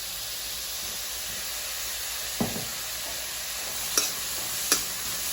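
Onions salted with pink Himalayan salt cook in a dry, oil-free pan, giving a steady soft sizzling hiss with a few brief clinks of stirring.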